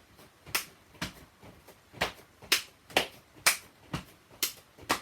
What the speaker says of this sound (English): you can hear me clapping at the top and at the bottom